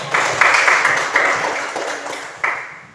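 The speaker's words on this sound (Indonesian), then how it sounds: "kita tepuk tangan untuk" A short burst of clapping from a small class, several bright claps that swell and then fade out within a few seconds.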